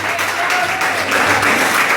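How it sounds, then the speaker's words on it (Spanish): A church congregation claps for Jesus during a Spanish-language worship service, a dense, steady wash of many hands at close range with no voices over it. "Alguien entiende esa revelación y le da palmas a Jesús."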